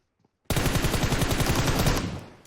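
Rapid automatic gunfire in the mobile battle royale game PUBG Mobile, a dense burst of about a second and a half that starts abruptly after brief silence and fades out, loud and close.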